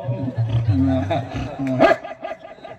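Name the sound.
voice imitating a dog barking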